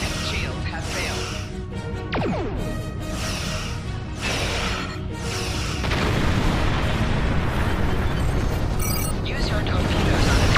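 Star Trek Online space combat fires torpedoes, with repeated booming blasts, sharp bursts and sweeping weapon effects layered over a dense rumbling battle mix, loud and close, with game voice callouts mixed in.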